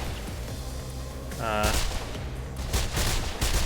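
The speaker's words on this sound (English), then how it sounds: "Another new weapon, though, the assault rifle" Bursts of assault rifle fire in the video game Mirror's Edge, loud and close, with dense rattling volleys around a brief whine in the middle of the fight.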